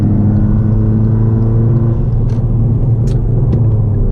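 A 2018 Hyundai Elantra Sport engine pulls hard with a loud, steady low rumble and harmonic drone throughout, heard from inside the car with no talking.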